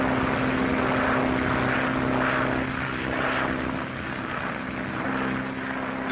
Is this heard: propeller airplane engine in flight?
yes